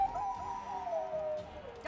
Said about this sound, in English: Dogs? Why did it have to be dogs?